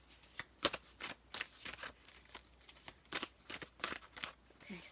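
Playing cards are shuffled in a quiet room, a run of short crisp riffling bursts repeating close by, with no speech.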